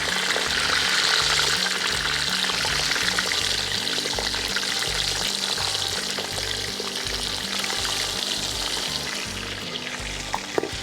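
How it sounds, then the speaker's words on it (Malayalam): Fish fries in hot oil with curry leaves for a Kerala-style fish molly, making a loud, close, continuous crackling sizzle that holds steady with small pops and no speech. "നമുക്ക് വേപ്പില ഇങ്ങനെ വെച്ച് കൊടുത്തിട്ട് നമുക്ക് നമ്മുടെ മീൻ ഫ്രൈ ചെയ്തെടുക്കാം."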